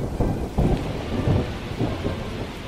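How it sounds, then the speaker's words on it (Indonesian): Rain pattering steadily on a tiled roof with low thunder rumbling in repeated swells, a close, continuous storm effect in a children's audio story. "Tik, tik, tik, bunyi hujan di atas genteng."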